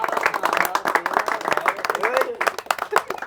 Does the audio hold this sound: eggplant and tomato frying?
no